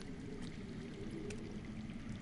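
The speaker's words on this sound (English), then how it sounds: "I hear water. From underground." Underground water in a Game of Thrones video game flows as a steady, continuous rush, like a stream or pour, with a dense low-frequency wash and no voices.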